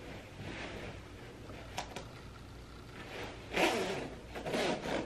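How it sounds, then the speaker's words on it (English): A zipper on a pop blue puffer vest is worked in short scraping pulls, a brief tug early, then a louder zip later, faint and close in a quiet room. "It's got zipper pockets."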